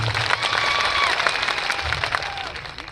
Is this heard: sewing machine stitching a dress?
no